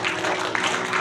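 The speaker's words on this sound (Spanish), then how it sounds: "Den un aplauso a Dios." A church congregation applauding, a dense wash of clapping from many hands filling the room, steady and fairly loud over the full second.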